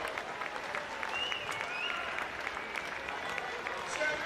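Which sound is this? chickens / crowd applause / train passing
crowd applause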